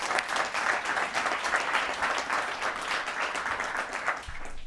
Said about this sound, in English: A round of applause for our final 8.